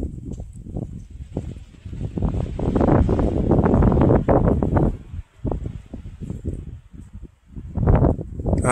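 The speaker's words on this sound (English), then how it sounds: "Listen to the wind." Wind on a Mount Mitchell hiking trail in North Carolina rushes and gusts in uneven swells against the microphone, rising loud then easing off between blasts.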